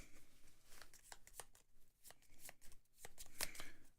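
Board game cards from Spires End are shuffled and riffled by hand, a series of quick papery flicks and slaps, close and fairly quiet, with no talking.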